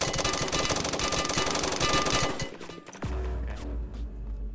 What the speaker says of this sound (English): These guys firing their guns in the air